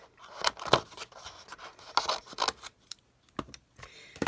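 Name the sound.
cutting off craft material for a junk journal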